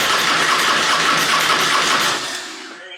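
An anniversary-edition Harley-Davidson Road King motorcycle engine runs loud and near, a rough steady roar, just after its first start, then winds down and fades toward the end.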